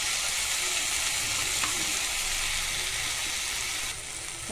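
Chopped tomatoes and two green chillies sautéing in a pan for mutton chukka, a loud, continuous close-up sizzle and frying hiss that eases slightly near the end, with no voices.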